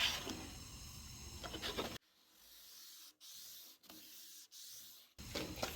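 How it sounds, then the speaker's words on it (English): Hand sanding on a Bronco body panel during paint prep before priming: close, loud, rhythmic abrasive rubbing strokes at the start and end, with quieter, broken scraping passes between them. "until I get all that sanded, because we want to make sure that primer sticks"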